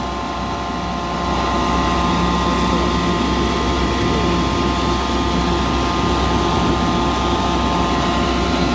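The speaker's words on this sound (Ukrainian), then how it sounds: "Сушка працює коректно." Grain dryer running while drying flooded, soaking-wet corn, a loud continuous roaring drone with a burner or fan hum that swells slightly after the first second and then holds steady, no voices.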